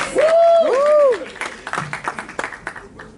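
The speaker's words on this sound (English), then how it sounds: "Give a little bit of applause." Audience applause at an awards segment of an animation film festival, opening with a sliding whistle-like tone before scattered, moderately loud claps take over for the last couple of seconds.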